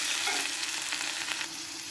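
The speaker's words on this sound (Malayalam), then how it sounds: "ഇനി നമുക്ക് നല്ലതുപോലെ ഇളക്കാം" Tomato masala with coriander powder sizzles in a pan as it is stirred for an egg roast, a loud continuous frying hiss with soft scraping strokes, heard alone.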